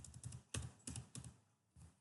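Computer keyboard typing in bursts of quick keystrokes with short pauses between them, close and moderately loud, no talk.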